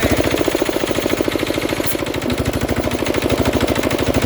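A diesel air compressor runs hard under load, its engine pounding in a fast, even rhythmic chug with a loud, close, rattling roar that stays steady throughout.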